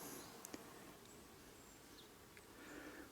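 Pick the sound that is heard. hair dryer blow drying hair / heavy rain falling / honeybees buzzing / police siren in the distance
honeybees buzzing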